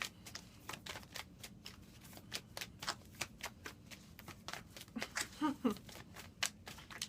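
Tarot cards are shuffled by hand, a quiet, close sequence of rapid rhythmic riffles and soft slaps repeating about once or twice a second, alone without talking.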